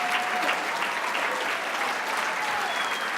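Sustained, dense applause from an audience at an awards ceremony, a steady wash of clapping hands from a large crowd filling the room with no pauses.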